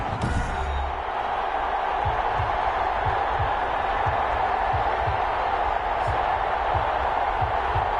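A stadium crowd in Madden 21 roars in a steady, dense wash of cheering, with a rhythmic thumping chant running beneath it and no pauses.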